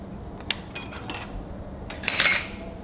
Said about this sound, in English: let's start putting spoons in